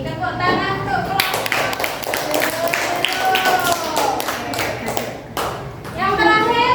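A class of elementary school children claps together in a classroom, a loud burst of mixed hand claps lasting several seconds, with a teacher and children talking around it.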